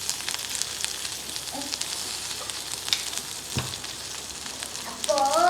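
Ivy gourd chutney ingredients frying in a pan, giving a steady, close sizzle throughout, with occasional stirring scrapes and a brief clatter partway through.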